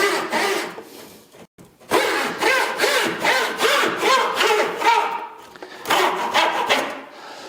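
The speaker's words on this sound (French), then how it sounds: "je vais venir scier ma pièce de bois" A hand saw cuts a piece of wood in quick, even back-and-forth rasping strokes, close and clear, pausing briefly once before the strokes resume.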